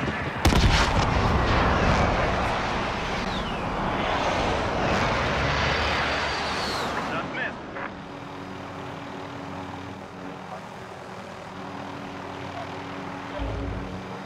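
Helicopter taking fire in Call of Duty: Modern Warfare: loud aircraft engine roar with bursts of gunfire and blasts for several seconds, then a quieter steady hum with a hard hit near the end.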